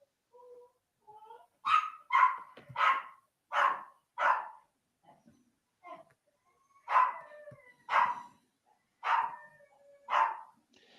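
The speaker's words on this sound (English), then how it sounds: "Why is it little dogs are the noisiest?" Dogs both big and small bark in a series of about nine sharp, loud barks in two bursts, with softer yips and whimpers in between, close by and with no talking.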